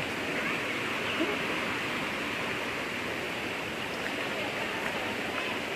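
Water at a natural spring with a tank nearby flows in a steady, quiet rush that stays constant without a break.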